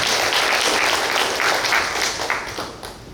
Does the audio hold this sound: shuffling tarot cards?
no